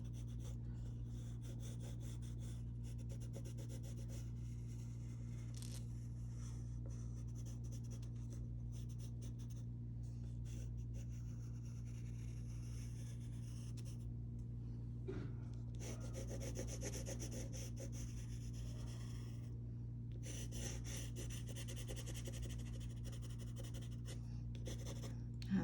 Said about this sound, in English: side of my pencil a little bit to add some fuzz for softness and that flannel effect on the shirt